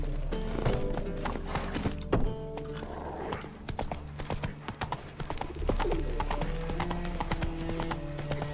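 Roach, a horse in The Witcher 3, clops along in steady hoofbeats and gives a whinny, loud and close, with ambient game sounds and no talk.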